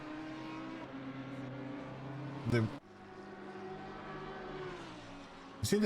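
Race car starting a flying lap at Watkins Glen, its engine droning through rising and falling gears with two brief louder bursts, heard at a distance beneath a commentator's continuous talk.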